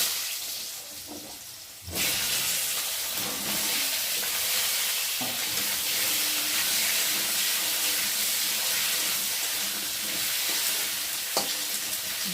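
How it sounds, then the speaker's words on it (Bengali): Washed, cut potatoes hitting hot oil with browned cumin in a pan: after a short quieter stretch, a loud, dense sizzle bursts in around two seconds and holds steady to the end, with occasional faint stirring knocks and no talking. "আলুগুলোকে এখন থাকতে খুব ভালো করে ভেজে নেব, লাল লাল করে।"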